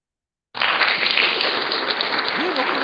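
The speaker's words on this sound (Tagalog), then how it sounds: "May palakpak lang." Applause from a crowd at a year-end celebration event, breaking out suddenly after a short silence and holding as a dense, steady wash of clapping.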